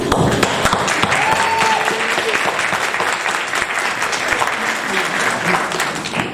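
An audience applauds a young performer on stage with sustained, fairly loud clapping, with a faint voice and a brief tonal sound under it early on.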